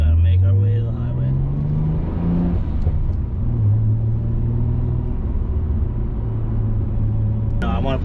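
An HKS 2.8L stroker Nissan GTR 33 with DR 500 turbos cruises on the highway, its engine a steady droning rumble with rising and falling revs inside the car while someone talks over it.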